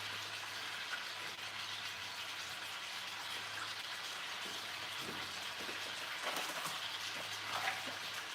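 Dishes are washed under a running kitchen tap while pork tenderloin, green beans and rice are being cooked, producing a steady, moderately faint water hiss with occasional soft clatters and no speech.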